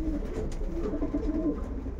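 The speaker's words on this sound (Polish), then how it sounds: "Tutaj mamy gołębnik lotowy, siedzą gołąbki na jajka" Pigeons in a racing pigeon loft where birds sit on eggs coo steadily and close by, a soft continuous murmur of overlapping calls with no talk.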